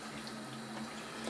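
Water pours steadily onto pitted cherries in a pot, a brief, close, continuous splashing stream while a cherry filling is made for a no-bake cake.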